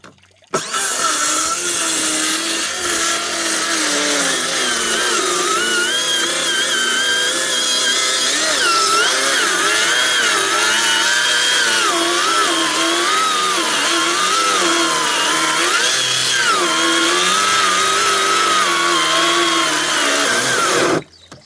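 A power saw drones loudly and continuously for about twenty seconds, its pitch wavering and straining, nearly stalling, as it bites through hard hornbeam wood.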